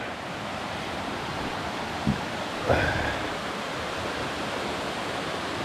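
A creek flows steadily across a hiking trail to Rapidan Camp near a waterfall, a continuous broad rush of water with a couple of faint brief knocks partway through.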